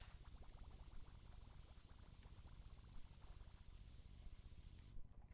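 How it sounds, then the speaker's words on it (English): Soft, continuous fizzing of cleaner bubbles in PowerWash Simulator, a steady low bubbling hiss that holds evenly throughout and cuts off near the end. "Can you hear the bubbles ever so slightly?"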